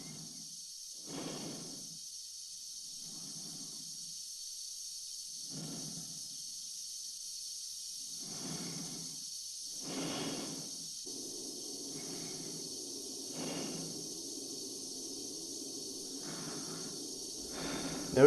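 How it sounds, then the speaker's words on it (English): Slow rhythmic breathing from an astronaut inside a spacesuit in 2001: A Space Odyssey, each breath a soft rasping puff, set against a constant high airy hiss from the suit that runs throughout. "the sound of Frank breathing and the hissing sound emanating from his suit"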